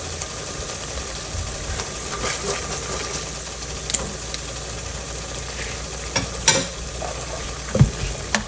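Chicken keema with whole spices sizzles steadily in a pan as tomato paste is stirred in, with occasional scraping clicks of the spoon over the constant frying hiss; no voices.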